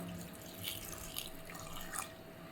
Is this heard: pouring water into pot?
yes